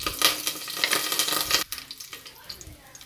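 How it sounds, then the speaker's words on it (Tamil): Whole cinnamon, kalpasi, cardamom and cloves fry in hot sesame oil for a country chicken curry, giving a bright, close crackling sizzle that fades after a sharp drop into a softer, quieter spitting. "நல்லெண்ணெய் ஊற்றின பிறகு கறி மசாலா ஐட்டங்கள் பட்டை, கல்பாசி, ஏலக்காய், கிராம்பு போட்டு போடணும்."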